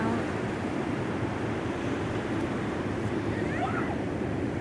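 Atlantic Ocean surf on a gray, gloomy day, a constant dense wash of waves and wind roaring steadily without a break, with faint bird-like chirps near the end.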